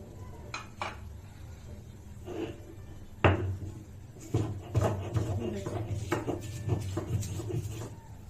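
Onion, chili and salt are ground on a flat grinding stone. Scattered knocks and scraping rubs start out irregular and become a denser series of grinding strokes. The sounds are fairly quiet and close.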